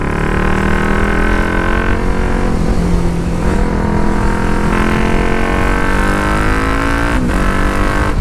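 A motorcycle ridden fast in urban riding mode, its engine note loud and steady with a dense harmonic drone and slight pitch shifts, heard continuously up close with no voices.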